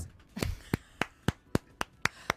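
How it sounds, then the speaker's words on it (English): A single pair of hands claps about eight times in a slow, steady rhythm, each clap sharp and close, with no talking over it. "I can clap for us at this point"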